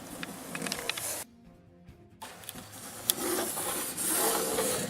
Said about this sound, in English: just draw the inside of the wheel well on the other side of the cardboard